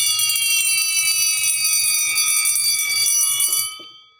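A Hikvision conventional fire alarm sounder gives off a loud, steady high-pitched electronic buzz that holds for several seconds before cutting off abruptly near the end.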